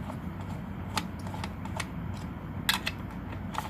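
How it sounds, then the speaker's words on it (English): Screws are tightened by hand into a hoverboard foot board, producing scattered small clicks and ratcheting ticks against a steady low background hum, with no talking. "And tighten the screws."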